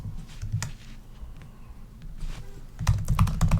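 Code being typed on a computer keyboard: close, irregular keystroke clatter comes in bursts, quieter in the middle and busiest at the end, with no talking.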